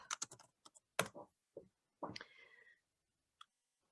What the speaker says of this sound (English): I'm going to type in chef.